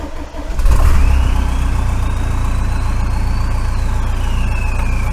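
A VW TDI diesel van engine with a MAF sensor problem turns over and fires after a brief crank, then runs at a loud, steady rattling idle close by.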